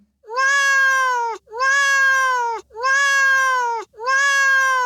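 A cat meows four times in a row, loud and close, each call long and drawn out with short pauses between them, and no voices.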